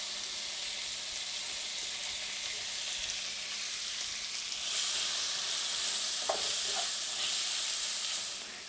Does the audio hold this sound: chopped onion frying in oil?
yes